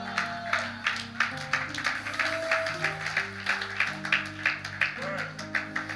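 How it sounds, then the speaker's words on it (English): A church congregation claps in a steady rhythm and shouts during a sermon, with sustained musical tones and voices underneath throughout. "The way you are shouting and clapping,"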